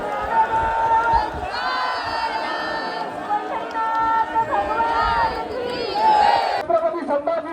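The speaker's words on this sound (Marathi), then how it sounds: "बापरे केवढी गर्दी आहे बघा." A large crowd of pilgrims at the Pandharpur temple during the Ashadhi Wari, a loud continuous hubbub of many voices with occasional shouts and chanting rising above the mass.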